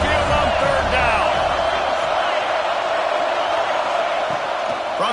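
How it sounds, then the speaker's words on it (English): Crowd noise swells in a college football video game as the Tide faithful roar on third down, a dense, loud stadium wash of cheering and whoops running steadily under a play-by-play commentator's voice. "The Tide crowd rolling noise down on the Saban field on third down."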